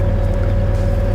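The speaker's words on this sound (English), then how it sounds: "inside here there is an engine" Steady diesel engine idling inside a tracked mobile stone crusher that drives its tracks, conveyor belts and crushers, a constant low droning hum with a strong steady tone, close and continuous throughout.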